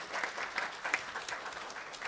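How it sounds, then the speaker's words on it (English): A seated audience at a talk on pesticides applauds steadily, dense clapping held at an even level throughout, moderately close, with no speech over it. "So Jay and all the staff at Beyond Pesticides deserves an incredible round of applause for making that happen for 33 years."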